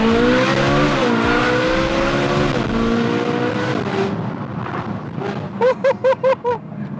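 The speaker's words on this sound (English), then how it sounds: "I can play around with the throttle and the shifting." Modded Ferrari 458 Italia V8 revving loudly with rising and falling engine tones through gear shifts, then a few short sharp throttle blips near the end.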